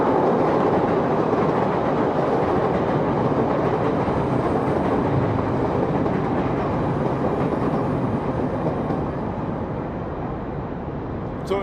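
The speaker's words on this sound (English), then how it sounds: "oh wait 1 second, as the train goes by." A train passes close by with a loud, steady rumble and rattle that stays heavy throughout and eases only slightly near the end.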